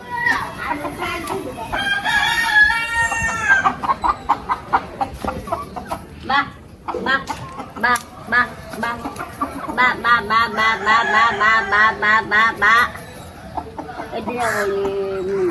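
Chickens cluck and a rooster crows repeatedly, close by, with people talking over the birds throughout, in Jaffna, Sri Lanka.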